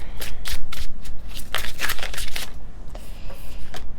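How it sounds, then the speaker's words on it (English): Tarot cards are shuffled close by, a rapid series of crisp riffling bursts and flicks with a slightly uneven rhythm. "shuffle things and keep cards on the table"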